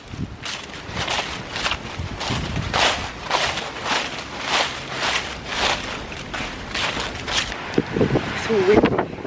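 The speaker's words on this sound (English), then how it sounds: "So windy." Steady gusts of wind buffet the microphone outdoors, with rustling and soft footsteps-like thuds beneath, and a faint voice near the end.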